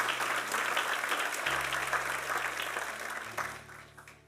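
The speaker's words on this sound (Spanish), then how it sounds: "Dale un aplauso al Señor, por favor" A church congregation claps steadily throughout, a dense, close wash of applause that thins slightly toward the end, with a low sustained organ or keyboard tone shifting underneath.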